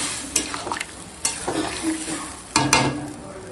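A spoon stirs egg and soybean curry with garam masala and boiled potatoes in a pan, scraping in several separate strokes over a steady low sizzle, close and moderately loud, with no talking.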